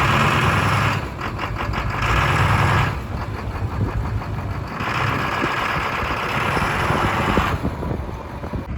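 A Duramax diesel pickup idles close by with a rough, steady clatter of fuel knock. It is a continuous low rumble with a faint ticking rhythm and no voices.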